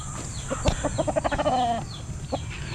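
Chickens, including a mestizo hen, cluck in a quick run of short notes, fairly close, with a drawn-out squawk midway and one more cluck near the end; no talking.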